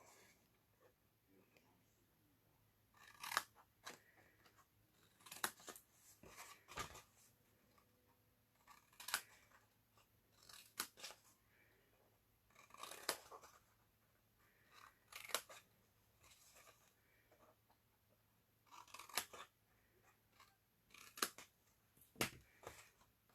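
Scissors cutting along paper for a handmade box, a quiet room with irregular short snips and crisp paper crunches spaced through the stretch, faint and close.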